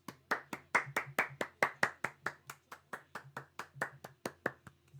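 A single person claps steadily, about twenty crisp claps in an even rhythm, close and fairly quiet, during a live wrestling watch-along stream.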